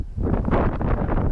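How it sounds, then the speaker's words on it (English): Wind gusts buffeting the microphone beside a creek with a partial beaver dam while fishing, a loud rough rumbling roar lasting the whole brief moment, no talk. "Thanks to this wind that's blowing right into my face."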